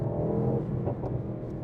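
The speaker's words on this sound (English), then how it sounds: "You can hear the snaps, and those are from the outside." Brief, loud burst of 2024 Mercedes-AMG GT engine and exhaust noise heard from outside, a deep rumble with a few sharp snapping pops in the middle.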